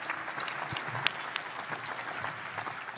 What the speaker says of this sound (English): let's have a round of applause as well for the reigning Ring Magazine champion